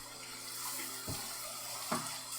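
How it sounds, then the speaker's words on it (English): Tap water runs steadily while a grater is rinsed clean of apple and carrot bits, a continuous close hiss with a couple of brief splashy knocks as the grater moves under the stream. "Rinse it off."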